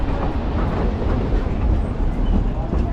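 A Durango and Silverton narrow gauge train runs on its rails, producing a steady, close rumble with rolling clatter and faint metallic tones, and a voice talks briefly underneath.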